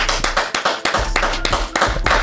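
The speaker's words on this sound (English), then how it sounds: "Let's give a round of applause to Adam Williams" Applause for a guest introduced on a community talk show: a few people clapping close up, with sharp, distinct claps in an uneven rhythm and a low hum underneath.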